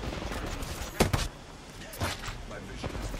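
Gunfire in the Apex Legends video game: a few sharp shots and short bursts land near the one- and two-second marks, with a lighter crack later, all over a steady background bed with some voice present.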